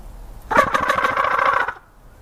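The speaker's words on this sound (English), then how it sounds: "Got the geese stirred up too, Lindy." A short, close burst of geese honking outdoors lasts about a second, then fades into quiet.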